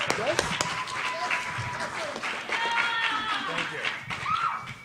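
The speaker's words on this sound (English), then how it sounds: "Let's give him a big round of applause." Audience applause at a comedy panel at Emerald City Comic Con, a crowd clapping with scattered taps and cheers, mixed with talking.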